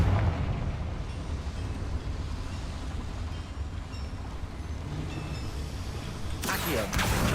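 Blasting-spell explosion in the Hogwarts Legacy game, cast inside a cramped underground mine: a dense, rumbling roar over a steady low bed, ending with a sharp bright burst near the close.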